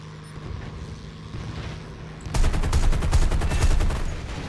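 Rapid cannon fire from the War Thunder video game, American aircraft in arcade battle, starts abruptly about halfway through as a dense, loud burst of repeated shots over a steady engine drone.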